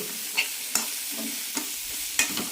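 Radish pieces are sautéed in a pan for radish sambar, with a soft sizzle under sharp spatula scrapes and clinks that come every half second or so, close by and with no voices.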